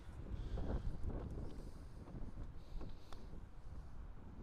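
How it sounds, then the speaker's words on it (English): Strong wind gusts across a golf course, buffeting the microphone with a low, rumbling roar that rises and falls in uneven surges throughout. "That wind is crazy today."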